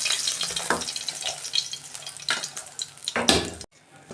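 Fish pieces fry in hot oil for a Bengali fish curry with ridge gourd and potato, a close crackling sizzle punctuated by sharp scraping stirs, cutting off suddenly near the end.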